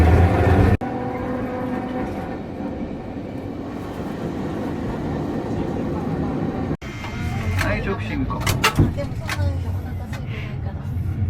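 A tram in Nagasaki, Japan rumbles steadily from inside the car, with a low continuous drone and clattering, then rattling bursts and squeaks toward the end, under a crowded cabin's background chatter.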